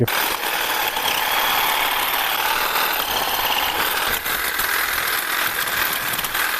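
An Einhell cordless hedge trimmer running on two batteries with a 610 mm bar buzzes loudly and steadily up close, a dense mechanical whir with a faint rattle and no voices.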